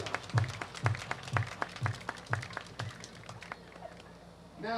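Baseball stadium crowd clapping in rhythm at a minor-league game, evenly spaced hand claps at about two per second, fairly faint and distant, fading out before a brief tonal sound at the end.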